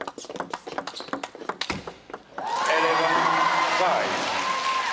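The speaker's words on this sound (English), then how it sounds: "Maverick Arena applauds" Arena crowd at a women's table tennis quarterfinal bursts into loud, sustained applause with cheering and whoops, following a few sharp ball taps and paddle hits.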